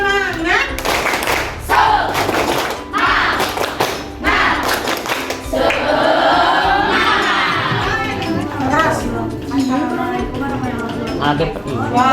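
Indonesian classroom students perform a group spirit clap, rhythmic bursts of clapping and thumps mixed with loud children's shouting and chanting, the crowd noise filling the room close by.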